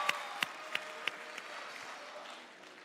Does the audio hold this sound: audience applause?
yes